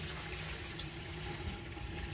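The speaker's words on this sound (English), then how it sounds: "I'm going to give my clothes a little rinse again, just to make sure it's not soapy." Hand-washed clothes get rinsed in water, giving a soft, continuous sloshing and trickling wash that stays faint and steady throughout.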